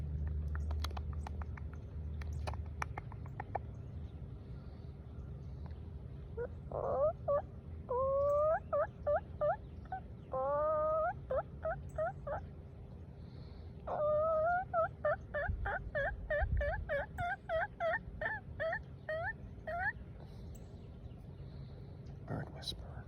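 A bird on a fishing dock gives repeated short, gobbling, turkey-like calls in rhythmic bursts, close by and fairly clear over a low background rumble.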